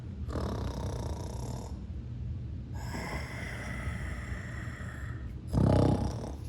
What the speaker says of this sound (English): a thundering, ear-splitting roar of a snore